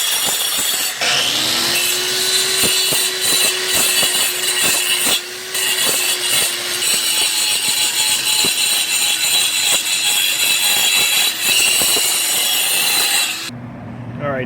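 An angle grinder fitted with a Graff Termit wood blade cuts into wood, a loud, steady whining grind with scraping bursts that runs continuously before cutting off abruptly near the end.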